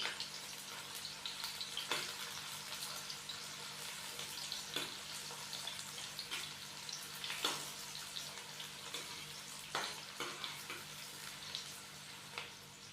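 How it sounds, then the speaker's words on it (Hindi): Onions frying in hot oil in a kadai while cooking a chicken and green chickpea curry, a steady soft sizzle with occasional crackling pops and faint stirring, fairly quiet throughout with no talking. "प्याज को हम हल्का सा लाइट ब्राउन कर लेंगे।"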